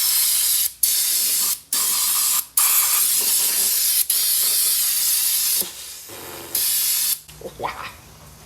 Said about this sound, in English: let's clean this up a little bit with some brake clean